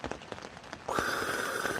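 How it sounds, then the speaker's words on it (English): Rain falling on a tent during a winter camping trip, a steady close patter with scattered drop hits, joined midway by a sustained tonal hum. "it's just been raining ever since"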